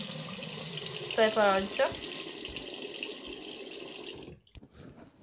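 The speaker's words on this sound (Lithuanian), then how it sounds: "paėmėt gabaliuką ir atidarot vandenį" Water runs steadily from a tap during homemade soap making, a continuous hiss under a person talking, then it shuts off abruptly near the end.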